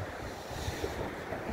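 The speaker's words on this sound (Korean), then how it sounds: "폭포 한번 담아 보겠습니다." Waterfall beside the frozen Hantan River in Cheorwon during a winter ice trek, a steady, loud broadband roar of falling water, wind-like and continuous, with no voices over it.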